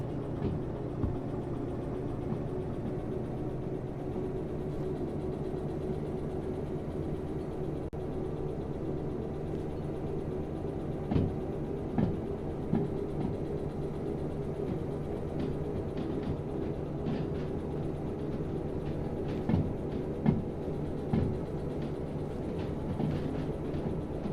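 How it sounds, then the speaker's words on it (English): Train in the Derail Valley railway game rolling slowly along, a steady low rumble with occasional wheel clicks and clanks over the track, moderate and continuous with no talk. "We're going to get this train moving and get on out of here."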